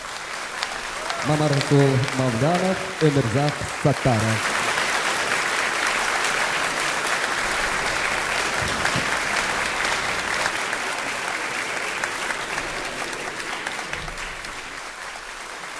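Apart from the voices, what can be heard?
concert audience applauding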